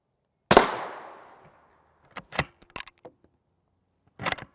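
An M193 rifle round strikes a steel body armor plate at an outdoor range, one loud sharp crack with a ringing decay, followed by scattered clicks and clatter and another brief burst at the end; no voices.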